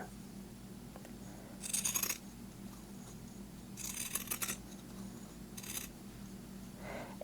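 Pinking scissors cut through quilting fabric scraps in three short crisp bursts of snipping, close and fairly quiet, over a low steady hum.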